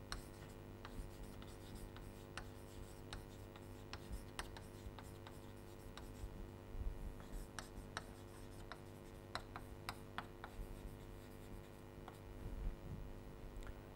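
Pen or chalk writing by hand during a logic lecture, a faint steady run of small scratches and ticks over a low room hum, with no talking.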